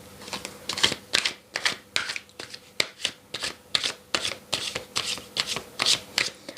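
Tarot cards being shuffled in a steady rhythm of about a dozen crisp riffling bursts, close and clear with no talking.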